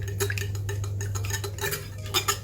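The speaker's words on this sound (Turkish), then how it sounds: "Dört tane de yumurta kırıyorum ve karıştırıyorum" Four eggs stirred into yogurt in a bowl, a brisk rhythmic clinking and scraping of a utensil against the dish, close and steady over a low hum.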